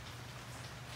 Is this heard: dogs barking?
no